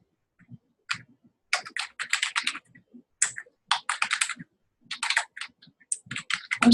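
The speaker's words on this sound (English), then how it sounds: "I'm just typing in international adoption" Keys clatter on a computer keyboard in uneven bursts of quick taps separated by short pauses, close and fairly quiet, with no talking.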